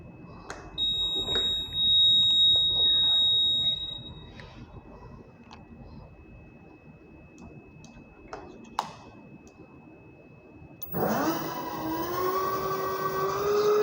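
A Revolt RV400 electric bike switches on with a loud synthetic electronic tone that starts abruptly near the end, after quiet clicks and ticks. Before that, faint steady beeps are heard.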